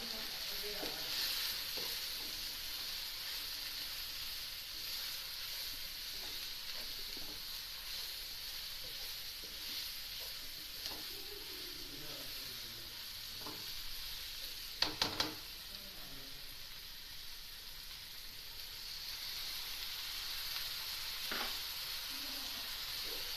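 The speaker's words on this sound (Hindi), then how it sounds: "थोड़ा सा भून लें इसे" Salt, chilli, turmeric and cumin frying in a pan make a soft, steady sizzling hiss, with occasional light stirring clinks and one sharper clatter midway, no talk.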